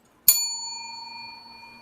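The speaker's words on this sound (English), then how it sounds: "that's a better bell than you got." A bell struck once, a sharp clear ding that rings on with a long, steady, slowly fading tone, close and alone.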